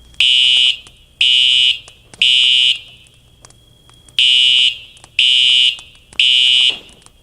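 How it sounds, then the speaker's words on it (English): A loud electronic fire alarm blares in a repeating pattern of three shrill beeps, a pause, then three more, close and piercing. "Move as soon as the alarm sounds."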